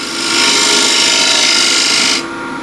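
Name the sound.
lathe tool cutting a bead on a turned wooden bowl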